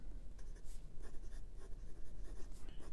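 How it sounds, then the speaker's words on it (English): Fountain pen nib scratching across paper: a MaJohn Moonman T5 piston filler with a calligraphy nib, writing continuously in close, steady strokes with no talking. "we'll continue with the writing sample with the calligraphy nib"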